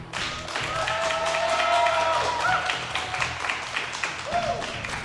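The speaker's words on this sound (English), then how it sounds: "I love the slow clap." A slow clap building through a live crowd at a StarCraft 2 esports tournament, WCS America 2014 group stage, with steady applause and crowd noise running throughout and bits of voice mixed in.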